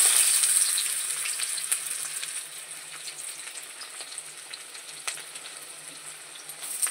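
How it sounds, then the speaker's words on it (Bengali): Chopped onion fries in hot oil in a pan while a Bengali fish dish is prepared, giving a bright, steady sizzle with scattered pops and stirring scrapes, loudest at first and then settling, with no talking. "তেলটা আমার গরম হয়ে গেছে, এর ভেতরে আমি পেঁয়াজ কুচি দিয়ে দেব।"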